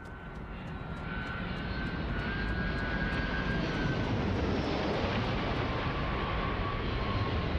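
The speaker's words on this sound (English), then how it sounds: "What a big spaceship." A large spaceship landing in the video game Starfield makes a loud, steady roaring engine drone that swells in the first seconds and then holds constant.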